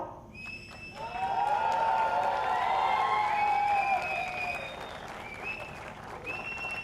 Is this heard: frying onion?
no